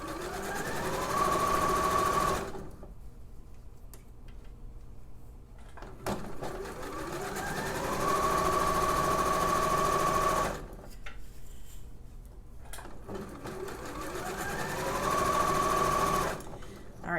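A sewing machine stitches a rolled hem on sheer chiffon-like fabric with a rolled-hem foot, running in three steady whirring bursts separated by short pauses. A person talks quietly between runs.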